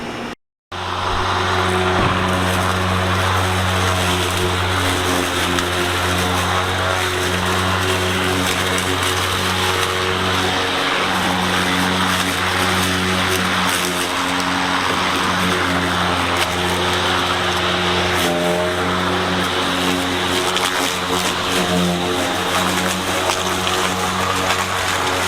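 An EGO Power LM2101 56V 21-inch cordless lawn mower with its bagger attached runs steadily and loudly up close, a continuous motor-and-blade hum holding for the whole stretch after a brief start.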